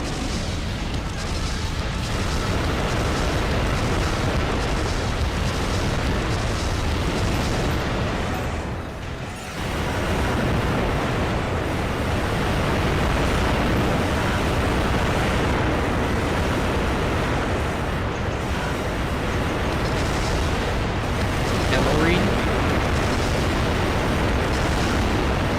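A steady, heavy roar of booms from enemy missile pod strikes fills an Armored Core: Nexus fight, with rumbling blasts running together almost without a break and dipping briefly once before the barrage resumes.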